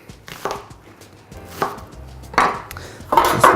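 A knife quarters an onion on a cutting board, giving several sharp chopping knocks spaced irregularly and growing louder toward the end, with no talking.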